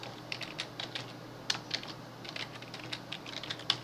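Quick, fairly quiet keystrokes rattle on a computer keyboard as a Wi-Fi password is typed, steady irregular clicks over a low electrical hum.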